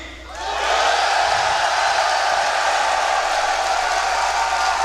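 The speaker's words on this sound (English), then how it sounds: "I want to know who in the crowd is cheering for NaVi" A large esports crowd at The International 3 grand finals cheers for NaVi, a loud roaring wall of cheers and shouts swelling up within the first half second and sustained at full volume to the end.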